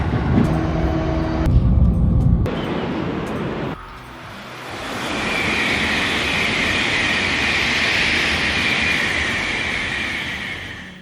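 A train travels across Japan with a steady, loud rumble and wheel noise, a brief tonal hum early on, then a broad hissing roar as it runs at speed.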